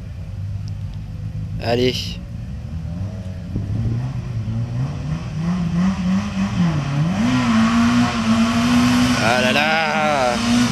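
A Citroën Saxo rally car pulls away at the Rallye des Bauges, its engine rising in pitch as it revs and accelerates close by, with a sharp burst near the start and crowd voices chattering and calling out over the rumble.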